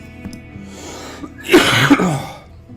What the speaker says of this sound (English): Oh, this cough's really bad